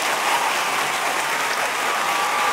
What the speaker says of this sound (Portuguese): uma palmas pra mim, por favor